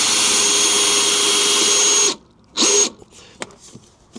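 A power drill drives an 80mm screw into a camper van floor: a loud, steady whine for about two seconds, then a short second burst after a pause, followed by faint knocks and handling.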